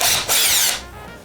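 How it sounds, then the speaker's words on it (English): A power sander whines loudly in two close bursts during an RV renovation, the second running longer before cutting off into quiet. "First up, sanding."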